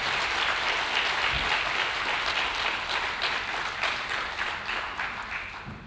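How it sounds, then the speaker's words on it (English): Graduation ceremony audience giving degree recipients a round of applause: steady, dense clapping from a large crowd throughout, slowly tapering in loudness toward the end, no talking. "Let's give you another round of applause."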